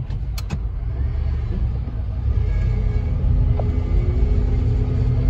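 An old Ford F150 pickup truck engine idling steadily, a loud continuous low rumble that holds evenly throughout with no talking.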